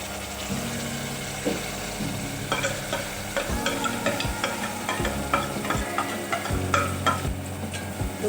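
Ginger and garlic fry in oil in a pan, a steady sizzle broken by repeated scraping and clinking as they are stirred.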